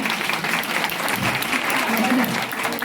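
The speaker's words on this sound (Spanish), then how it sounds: "que hace un aplauso para el doctor Peregriniano." An audience at a talk on euthanasia and dignified death applauds, thick continuous clapping with faint crowd murmur and a hint of voices beneath, steady and close throughout.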